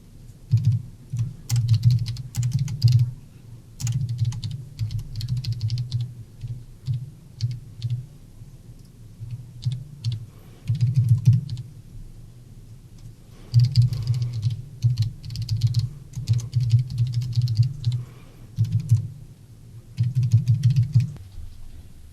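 Bursts of typing on a computer keyboard while entering test credit card details, close and clear, coming in several runs of rapid clicking separated by short pauses.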